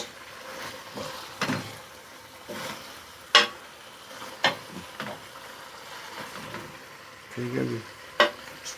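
A spoon scrapes and stirs potatoes and chicken in a pan in irregular soft strokes over a faint sizzle, with someone speaking briefly.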